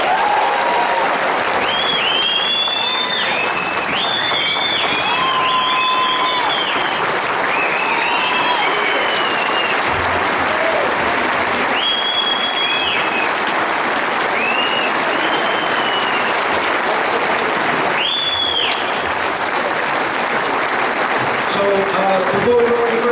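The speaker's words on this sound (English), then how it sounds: "Let's give him another round of applause." A crowd at a retirement party applauds loudly and steadily for over twenty seconds. Whoops, cheers and voices rise through the sustained clapping.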